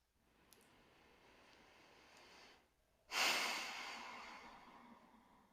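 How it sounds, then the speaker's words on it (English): Slow breathing through the nose during a yoga session, a soft drawn-out inhale followed by a louder, airy exhale, close and alone with no talking. "taking some inhales and exhales in and out of our nose"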